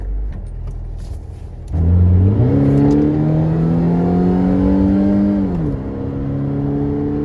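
A car engine starts with a loud jump, then climbs in pitch as it revs and pulls away. It drops back to a steady idle-like drone, close and alone with no voices.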